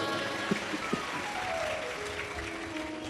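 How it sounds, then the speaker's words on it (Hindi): An audience at a Hindu religious discourse breaks into sustained applause, a dense crowd clapping that stays even throughout, with a couple of sharper claps near the start. "एक बार जोरदार ताली बजाओ।"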